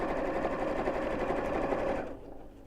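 A sewing machine stitching a seam on a bowling bag, a rapid, even mechanical whirr of the needle running for about two seconds before stopping.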